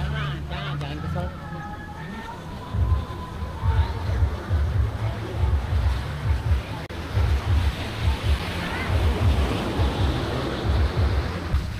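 Ocean surf rolls in at Karang Bolong beach in Indonesia, rhythmic waves crashing and washing up close by, with a siren-like wail and crowd voices in the background early on.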